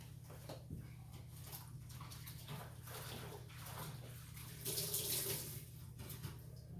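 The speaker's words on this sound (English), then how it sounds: "let me wash my hands" A tap runs steadily into a sink while hands are washed, a soft continuous splashing with slight swells in flow, fairly close and fairly quiet, with no talking.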